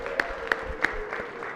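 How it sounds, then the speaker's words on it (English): Senators in a senate chamber clap in a short burst of applause, with a few loud, distinct claps standing out over a thin, moderate spread of clapping that fades quickly. "if you could give him a round of applause"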